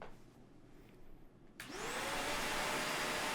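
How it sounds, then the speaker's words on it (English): Vacuum cleaner switching on in a room, starting with a sudden rising whine and settling into a loud, constant roaring hiss. "Then you have a vacuum running in the background."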